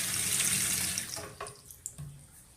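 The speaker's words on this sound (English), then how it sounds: "The water in the tap is running fine" A tap runs into a stainless steel kitchen sink with a loud, steady rush for over a second, then shuts off, leaving a few faint clicks and drips.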